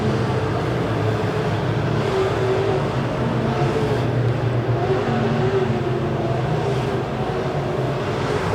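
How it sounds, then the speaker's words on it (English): USRA B-Modified dirt-track race cars circling Springfield Raceway during a Turkey Bowl A-Main, a dense continuous engine roar with droning tones that swell and fade as the pack passes, steady and loud with no talking. "Pretty well racing top to bottom around the Springfield Raceway."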